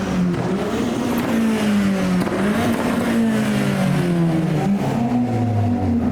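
A modified car pulls away from a car meet with a loud, steady engine drone rising through the revs, close and continuous, other traffic noise beneath.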